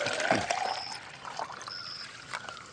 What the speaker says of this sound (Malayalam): ഇനി നമ്മുടെ ഈ ബോട്ടിലേക്ക് ഈ വളം ഒഴിച്ചു കൊടുക്കുകയാണ്